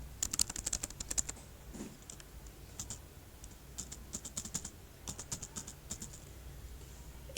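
Typing on a computer keyboard while entering formatting shortcut keys in Microsoft Word: quick bursts of crisp key clicks separated by short pauses, close and fairly quiet, with no voice.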